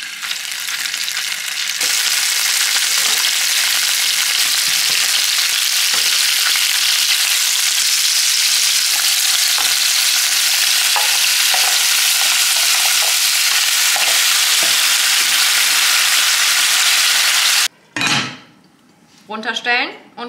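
Chicken drumsticks frying in oil in a pan, a loud, dense, continuous sizzle filling most of the clip with occasional clinks, ending abruptly in a short burst of other noise.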